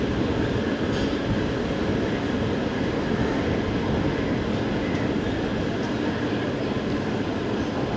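The 12076 Jan Shatabdi Express running between Thiruvananthapuram Central and Kozhikode, heard from inside as a loud, steady rumble of wheels and carriage noise that continues unbroken throughout.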